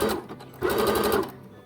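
A sewing machine runs in two close, steady bursts of rapid stitching as fabric is sewn for an embroidered heart, the second run louder, with no talking.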